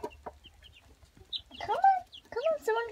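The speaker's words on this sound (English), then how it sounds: "There's two chickens over there." Chickens cluck and squawk close by, with a few short calls first, then louder drawn-out clucks and crowing-like cries toward the end.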